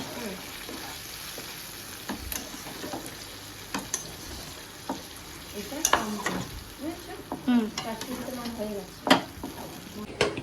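Spiced vegetables sizzle and crackle in a pan with scraping stirring sounds, at a moderate, steady level with occasional louder clatters.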